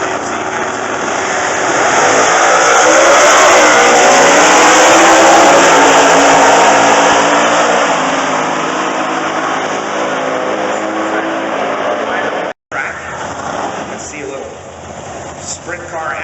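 A drag racing car makes its run down an eight-mile strip during Sportsman qualifying. A loud, sustained engine roar builds and holds, then cuts off abruptly before quieter track noise returns.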